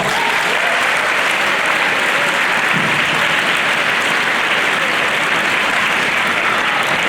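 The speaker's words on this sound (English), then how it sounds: "Give yourselves a big round of applause." A large audience at a Brotherhood-Sisterhood Week family talk applauds loudly and steadily, with dense, continuous clapping that fills the whole stretch and has no break.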